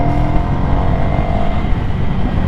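Steady, loud drone of an 800cc Ducati Scrambler motorcycle engine running continuously at an even pace, close up with no talk over it.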